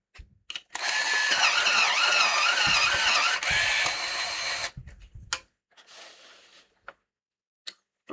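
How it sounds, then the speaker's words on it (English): A colored pencil grinds in a sharpener in one steady burst of about four seconds, then stops, with a few short scrapes and taps after it, loud and close. "I need to sharpen again"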